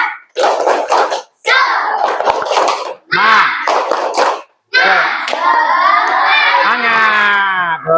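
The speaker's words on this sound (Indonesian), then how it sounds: "Coba tepuk semangat dulu sama-sama." A school class claps a rhythmic spirit cheer together, loud bursts of group clapping in short blocks separated by pauses, mixed with children shouting and ending in a drawn-out chanted cry.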